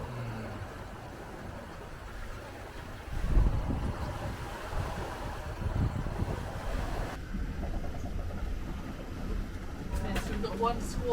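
Wind at sea blows across a homemade aluminum sailboat crossing the Atlantic, a steady rushing roar with gusty bumps and water wash beneath, continuous and close to the microphone.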